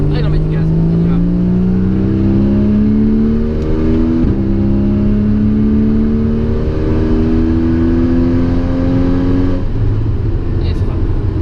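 A Porsche Cayman S accelerates hard on a race circuit, the engine note climbing steadily through two gear changes, loud and close from inside the car, with a voice speaking over it.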